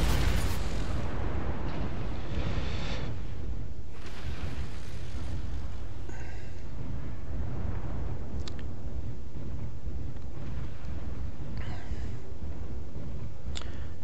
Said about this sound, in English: Warning, incoming missile.